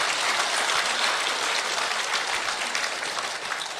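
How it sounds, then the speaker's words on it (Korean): Encouraging applause from an audience at a Buddhist Dharma Q&A talk, a short burst of dense, steady clapping that holds evenly and tapers off slightly toward the end. "격려 박수를 부탁드립니다"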